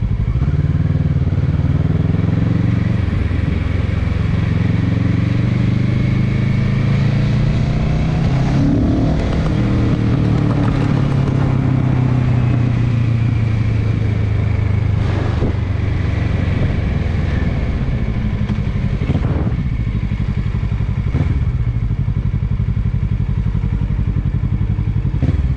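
A motorcycle ridden at night in cold Boston, its engine droning loud and close with rising and falling revs as it travels, heavy wind buffeting the microphone throughout and no talking.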